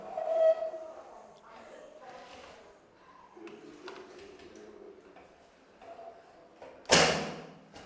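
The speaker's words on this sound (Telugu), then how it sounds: "కుక్కర్ మూత పెట్టి 2 విజిల్స్ రానివ్వాలి మీడియం ఫ్లేమ్ మీద" A pressure cooker of meal maker pulao on a medium flame lets out a sudden loud burst of hissing steam near the end, after quieter kitchen clatter and talking.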